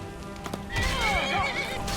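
Horse in Skyrim whinnies in a loud descending neigh after a quieter stretch, with scattered hoof clops and low battle rumble underneath, near and clear.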